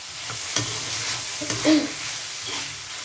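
Minced meat (keema) cooks in a pan, giving a steady sizzle broken by a few soft scrapes and taps of a stirring spoon.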